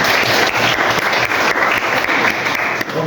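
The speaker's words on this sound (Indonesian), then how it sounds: "Oke, kasih tepuk tangan dulu." A classroom group claps together in a brief, dense burst of applause that stays fairly loud and even for about three seconds before tapering slightly at the end.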